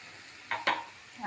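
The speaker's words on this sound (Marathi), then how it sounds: "आणि हे व्यवस्थित मिक्स करून घेते." Roasted dry fruits mixed with cardamom powder get stirred in a pan, making two quick, close scraping strokes with a soft rustle in a quiet kitchen.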